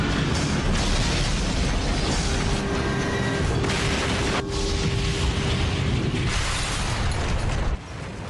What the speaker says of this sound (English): At 9:16 and 15 seconds, Flight 587 slams into the ground.